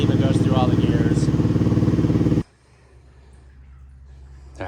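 ATV engine revving close and loud in a steady rapid chug, then cutting off abruptly halfway, leaving a faint low hum and small clatters.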